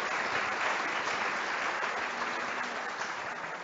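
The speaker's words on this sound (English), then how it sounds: "Will you just join me in a round of applause for the LGBT Center?" Applause from an audience at an LGBT Center summit event fills the room, a dense, steady wash of many hands clapping that carries on without any voices.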